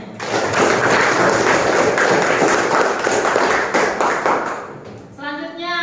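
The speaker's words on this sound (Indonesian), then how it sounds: "Tepuk tangan untuk Jasmine." A classroom of students claps for a classmate after her answer in an Indonesian lesson, a dense and fairly loud patter that tapers off before a voice starts speaking at the close.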